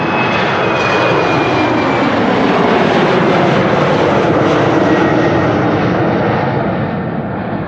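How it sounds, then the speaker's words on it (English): Loud, continuous roaring rush of a KLM Embraer 190 jet airliner at Amsterdam Schiphol, sustained and broadband, with a faint high whine running beneath the roar. "KLM flight 1295, the Billund. We can see it is the Embraer 190 in the SkyTeam livery."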